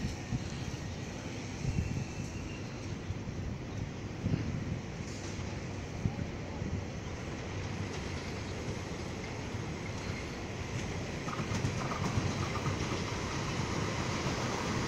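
An eight-car Chu-Kuang express hauled by an E225 electric locomotive rolls into a Taiwan station, a broad, continuous rumble with wind buffeting and faint rail clatter that swells slightly toward the end.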